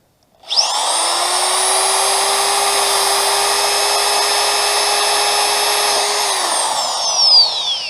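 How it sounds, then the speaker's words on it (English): A power drill spins up sharply and whines at a steady high pitch for several seconds, then winds down as it stops. "I'm going to drill a hole in this thing"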